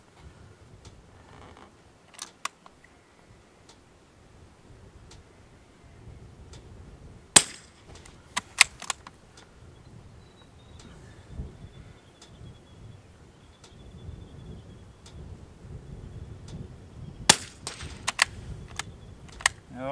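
Rifle shots at a target shooting competition sound as scattered sharp cracks, mostly isolated with a few quick clusters, over a low steady background hum across a long stretch without speech.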